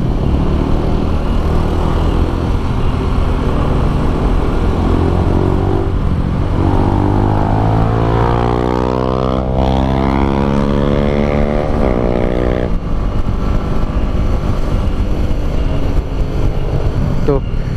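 A 2022 Honda CB150X motorcycle rides a winding road with climbs, descents and bends, its engine droning steadily and rising in pitch mid-ride while a rider talks over it throughout.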